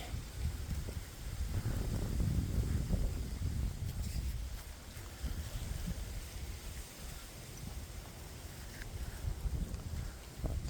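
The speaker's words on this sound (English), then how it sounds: "There is a lot of wind today." Strong outdoor wind gusts buffet the microphone in a loud, continuous low roar that swells and eases over several seconds, with no talking.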